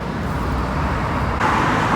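Cars going by on a road across from a small park at Revere Beach, a continuous roar of passing traffic that grows louder and brighter partway through as a vehicle nears, with no talking.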